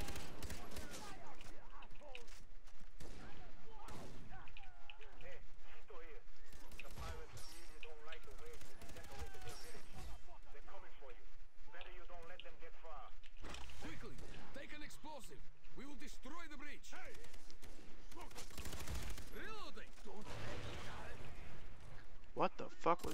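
Explosions and gunfire during a cooperative mission in the shooter Far Cry 3, scattered bursts and blasts of varying loudness spread throughout, with players talking over much of the action.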